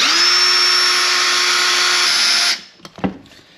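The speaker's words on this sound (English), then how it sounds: "I'm trying to drill back towards the center" A power drill drills out a broken bolt on a Mitsubishi Evo 8, whirring at a steady high pitch for a couple of seconds, then stops, followed by a few light metallic clinks.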